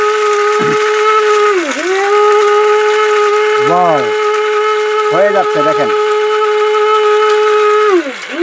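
A Thai-brand mini bullet blender grinds with a loud, steady, high motor whine that dips in pitch several times as it loads up. Someone talks briefly over it.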